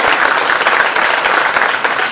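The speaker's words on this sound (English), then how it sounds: "we're going to applause for all the fathers who are here now" Audience at a Father's Day event applauding the fathers present, a dense, steady wash of hand claps, loud and close, sustained throughout without speech.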